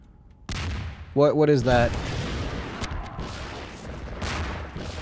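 Gunfire aimed at the player in Half-Life 2: Episode One. Booming shots and scattered sharp cracks sound at mid distance while someone speaks briefly over them.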